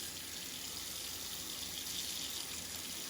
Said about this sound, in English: I'm still running some water in there, but there is ice in here